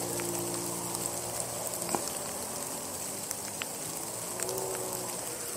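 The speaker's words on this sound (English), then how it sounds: "that's just a really big column of rain coming at me" Rain falling outdoors as a heavy column sweeps in, a steady faint hiss with scattered tiny patters, even and continuous across the whole stretch.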